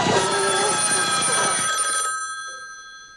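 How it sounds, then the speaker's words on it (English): An old sorority house telephone in the 1974 horror film Black Christmas rings loudly with a metallic bell trill that stops abruptly, its tone lingering and fading away. "you instead hear the ringing of the phone at the sorority"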